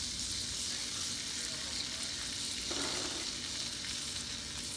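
Melted butter in a pan sizzling steadily and softly, with a brief clatter partway through as onions go in, a low even frying hiss throughout.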